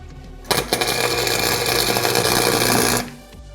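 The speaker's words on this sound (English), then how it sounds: "So the only thing left to do is to weld it." Steel being welded on a homemade E-11 blaster rifle, a loud close continuous crackling buzz that starts abruptly and runs steadily for about two and a half seconds before cutting off.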